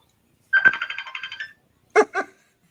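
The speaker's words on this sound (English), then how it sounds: "can you guys hear the phone ringing?" Phone ringtone chirping in a quick electronic warble, a fast burst of repeated tones followed by a pause and a shorter double burst, clear against silence.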